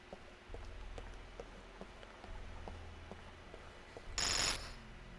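An in-game phone rings in Contagion VR Outbreak, a bright electronic ring sounding once for about half a second near the end, over a steady low ambient drone with faint rhythmic ticking.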